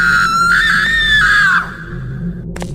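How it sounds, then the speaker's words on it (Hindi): A woman screams loudly and shrilly in a Hindi horror tale. The single sustained cry rises, then bends downward and breaks off after about a second and a half, leaving quieter background noise. "वो तेज चिल्लाती।"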